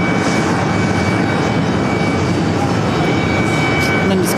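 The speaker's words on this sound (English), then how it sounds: "Viva Aerobus A320 Neo lined up." A Viva Aerobus Airbus A320neo jet lines up on a runway at JFK airport, a loud, steady engine roar filling the scene, with voices talking faintly beneath it.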